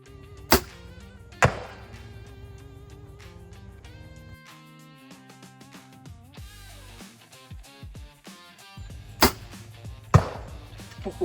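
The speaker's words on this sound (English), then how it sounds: "That snap when the arrow hits the target is one of my favorite sounds right now." Arrows striking an archery target at an outdoor range, heard as several sharp, loud snaps spaced seconds apart over a steady background hum, with no talk.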